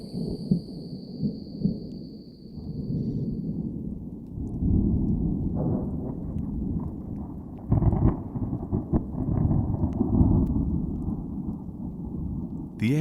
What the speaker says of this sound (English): Thunder roars, but no rain falls.